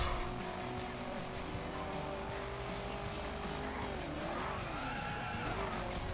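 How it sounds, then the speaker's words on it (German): Arcade-style tyre skid and squeal as a car drifts in the racing video game The Crew, a steady loud screech over continuous engine roar with shifting pitch, game music faintly mixed underneath. "Good Drift, Cool Drift."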